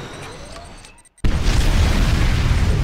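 Nuclear missile detonation in the Tacitus mod of a Command & Conquer-style strategy game: a brief hush, then a sudden loud boom that rolls into a sustained heavy rumble, no talk.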